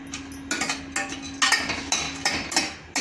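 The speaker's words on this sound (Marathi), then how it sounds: "हे बघा काजू बदामचे तुकडे टाकून त्याला तुपामध्ये चांगले परतून घ्यायचे" Cashew and almond pieces stirred in ghee in a kadhai: a spatula scrapes and clinks against the metal pan in short repeated strokes, close and fairly loud, with no talking.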